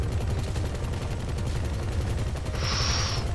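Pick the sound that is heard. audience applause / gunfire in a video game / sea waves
gunfire in a video game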